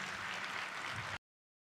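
An audience applauds at a Turkish awards ceremony, a brief dense wash of clapping at steady moderate loudness that cuts off abruptly.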